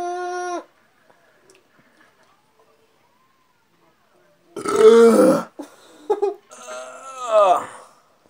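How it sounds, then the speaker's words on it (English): A person burps loudly and close, one short belch at the start and a couple more rough, drawn-out burps later after a silent stretch. "I can see the burp."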